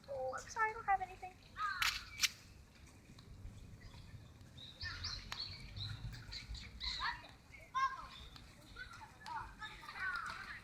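Birds call repeatedly at Kamakura, Japan, in short, bright, chattering bursts scattered through the clip, with people talking nearby and children's voices in the background.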